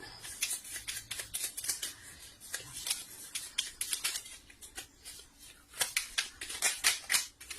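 Tarot cards are shuffled and handled up close, giving quick papery riffles and flicks in uneven bursts with short pauses, fairly quiet and with no voices.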